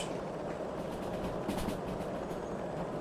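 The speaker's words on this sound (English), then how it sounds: "Very nice to see the train going by." A steam train rolls along the rails in Derail Valley at about 60, a steady rumble with rhythmic clickety-clack from the wheels, heard at moderate distance with no talking.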